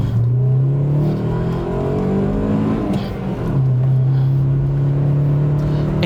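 A 2004 MG ZR 105 with its small K-series four-cylinder engine revs loudly and steadily close by, the pitch rising, dipping briefly around the middle, then climbing and holding again.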